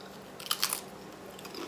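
A close, brief crunch of someone biting into a homemade low carb chip made in an air fryer oven, a couple of crisp cracks over a faint background hiss.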